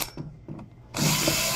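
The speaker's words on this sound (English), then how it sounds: "I'm trying to decide what size hole to drill" A power drill whirs up loudly and steadily after a few quieter knocks and clicks, biting into a scrap wood tabletop close by.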